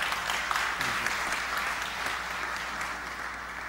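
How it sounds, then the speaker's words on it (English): An audience at an Islamic finance conference session applauds a panel, with continuous, moderately quiet clapping that stays even for several seconds. "very big round of applause?"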